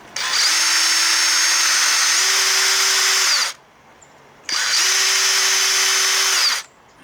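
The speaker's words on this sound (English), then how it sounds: "Got it on the drill." A power drill spins a cleaning tool against an outboard motor part coated in baking soda paste, from a 1968 6 hp Evinrude. Two close, loud, steady whirring runs are separated by a brief pause.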